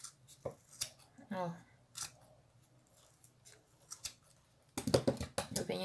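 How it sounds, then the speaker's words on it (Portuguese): Scissors snipping paper to cut out a rose shape for a decorated letter, sparse close clicks and cuts followed by a quicker burst of snips, with a voice speaking briefly. "vem aqui e termina de cortar com a tesoura"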